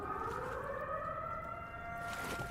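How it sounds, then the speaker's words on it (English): A sustained wailing siren in The Sinking City 2, steady and droning with layered tones, filling the scene on its own before fading slightly near the end. "By incorporating the siren and having a legitimate reason for using it"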